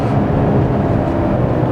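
Mercedes-Benz GLC 300 4Matic engine revving in sport mode, a brief, steady, close droning roar with no talk over it.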